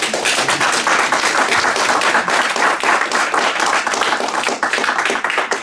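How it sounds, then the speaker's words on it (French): Audience applause for historian and lecturer François Broche after a talk on New Caledonia rallying to Free France: dense, steady clapping from a room of people, loud and continuous for several seconds, with no one speaking. "on va remercier très chaleureusement encore notre historien, notre conférencier François Broche, en l'applaudissant bien fort"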